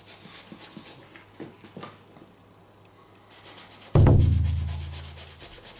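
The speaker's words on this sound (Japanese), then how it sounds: "柔らかい歯ブラシでニットの部分は磨いていきます。" A soft toothbrush scrubs the knit upper of a blue Adidas Copa 20.1 football boot in rapid, close, rhythmic scratchy strokes, interrupted near the end by a sudden loud low thud that rings out.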